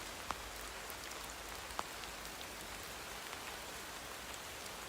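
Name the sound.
rain falling on leaves and soft earth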